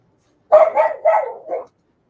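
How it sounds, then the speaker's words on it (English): A dog barks nearby in a quick burst of three or four loud, close yips indoors, then falls quiet. "Sorry about the dog. She's just doing her thing."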